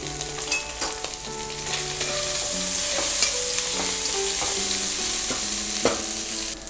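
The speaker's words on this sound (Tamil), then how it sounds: "நம்ம உருளைக்கிழங்கு ஹையில் வச்சு பண்ணால் அது நல்லா கிறிஸ்பியாக வரும்" Potatoes frying on high heat with a loud, steady sizzle, broken by repeated metallic scrapes and clinks as a spatula stirs them in the pan.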